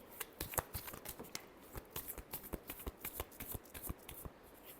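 Tarot cards being shuffled by hand make a quick run of soft riffling snaps and flicks, close and fairly quiet, with an irregular rhythm throughout and no talk.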